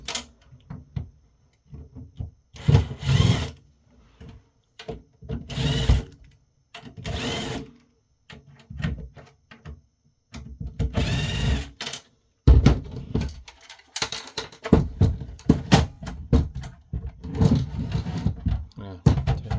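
A Phillips number 2 screwdriver works the screws holding the power supply inside a Psion Teklogix HU3006 6-bay battery charger for barcode readers, giving loud, close, repeated grinding and rattling bursts separated by brief quiet gaps.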